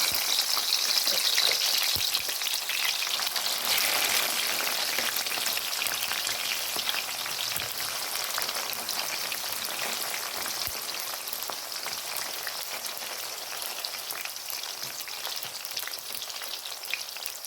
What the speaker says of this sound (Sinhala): හොඳින් තෙල් ටික රත් වුණාට පස්සේ මම බටු මේ විදිහට එකතු කරගන්නවා